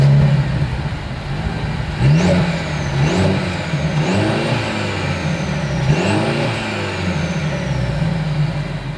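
A 2023 Mercedes-Benz C300's exhaust is revved about four times in quick succession, each rising roar falling back to a steady idle, loud and close.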